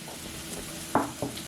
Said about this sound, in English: and let them sizzle away.